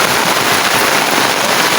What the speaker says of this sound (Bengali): অনেক বৃষ্টি পড়তেছে, হ্যাঁ, অনেক অনেক অনেক অনেক বৃষ্টি পড়তেছে